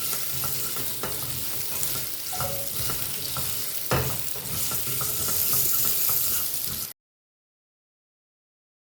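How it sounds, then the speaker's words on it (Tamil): Tapioca sautéing in a pan with a pinch of turmeric powder for a South Indian poriyal, a steady sizzle with scraping stirs and utensil knocks close by, cutting off abruptly into silence near the end. "இதிலேயே ஒரு சிட்டிகை மஞ்சள் பொடி போட்டுட்டு ஒரு 2 நிமிஷம் இது வதங்கட்டும்"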